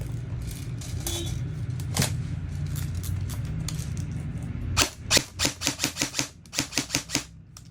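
A G&G Raider 1.0 airsoft gun fires on a test. A few single shots come first, then a fast burst of about a dozen sharp, close cracks in an even rhythm over a low background hum.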